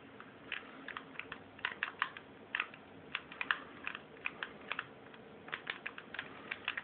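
Buttons on a Bluetooth SNES-style controller, used with an Android emulator, are pressed in rapid irregular clicks, some in quick clusters, close up and fairly quiet with no talking.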